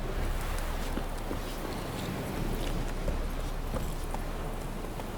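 Roach, the horse in The Witcher 3 game, gallops with a rapid, steady clip-clop of hooves on open ground, close and continuous under a faint rush of wind.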